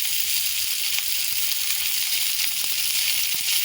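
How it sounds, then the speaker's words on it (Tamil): Sliced ivy gourd sizzling in a small amount of hot oil, a steady bright crackling hiss with scattered pops, close and continuous with no talk. "ஆயில் ஹீட் ஆனதுக்கப்புறம் கோவக்காய் போட்டுடலாம்."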